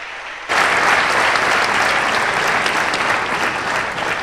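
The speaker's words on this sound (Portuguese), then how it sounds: "Tem nada de mais aplaudir de novo" A church congregation breaks into applause after a quiet moment, a dense, sustained clapping from many hands that holds steady and close for several seconds without talk.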